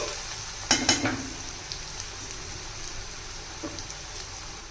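Onions softening in a pan for mutton brain fry give a steady, fine sizzle with a couple of sharp clatters of the spoon near the start, then a quieter continuous crackle with no talk.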